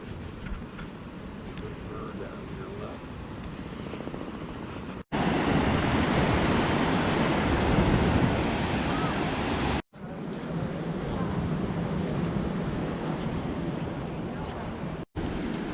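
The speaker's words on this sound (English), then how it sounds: "The view of the beach from the pier." Surf breaks at a beach in St Andrews State Park, heard from the fishing pier as a continuous rushing wash with wind noise, steady and moderately loud across several cuts.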